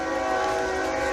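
A train whistle blows in one long, steady, loud multi-tone blast near a rural home, sustained throughout without any talking.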